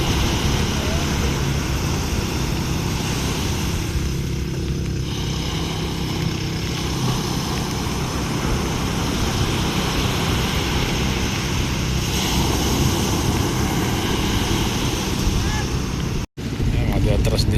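An 18-horsepower boat engine with reverse running at sea in rough waves, a loud steady droning hum under wind and water noise, continuous and close throughout.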